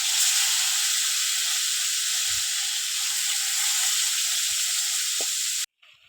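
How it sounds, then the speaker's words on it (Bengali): A loud, steady sizzle of fish frying in hot oil, one piece after another, hisses for several seconds with a few faint clicks, then cuts off abruptly. "এবার মাছগুলো সব এক এক করে ভেজে নেব"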